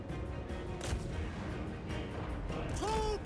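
A heavy rumbling boom from an artillery rock in the Total War: Warhammer 3 video game rolls under dense battle noise, a continuous loud low roar with crackling impacts and a brief rising tone near the end.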